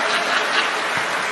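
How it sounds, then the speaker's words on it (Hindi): An audience claps together in a steady, dense burst of applause that fills the room at even loudness, with faint chuckles mixed in and no talking. "ताली मत बजाओ"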